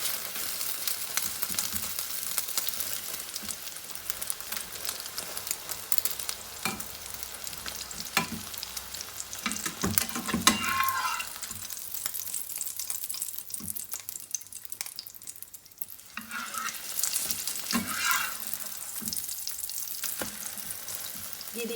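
A flipped omelette sizzles steadily in a hot pan, a continuous crackling hiss that runs throughout with occasional soft scraping and tapping, no voices.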